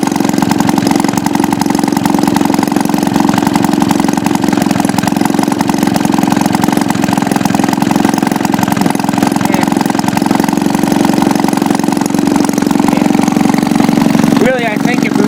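A Maytag Model 72 single-cylinder engine idles steadily and loud for the whole stretch, a continuous close putter with a brief disturbance near the end, while people talk over it.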